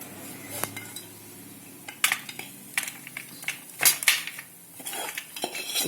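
A date and dry fruit mixture is scraped out of a pan onto a board greased with ghee, making irregular metallic clinks, clatters and scrapes of a spoon against the pan in short close bursts, with no voices.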